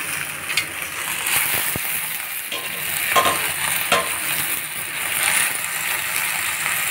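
Gongura leaves cook in a hot pan with a continuous sizzle and hiss, punctuated by occasional scraping stirs and clinks, close and fairly loud.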